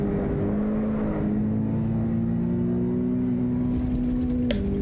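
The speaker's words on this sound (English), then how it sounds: "I can hear the exhaust bouncing off the walls" Race car in Assetto Corsa EVO with a steady, loud exhaust drone holding a rising engine note near the walls, ending in a quick shift-like change at the end; no talking.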